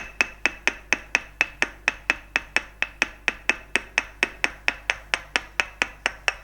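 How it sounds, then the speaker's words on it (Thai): Wooden stick tapping the toes and feet during a northern Thai tok sen massage, sharp, evenly spaced knocks, about four a second, close and crisp throughout. "ตอกนิ้วทุกนิ้วค่ะ"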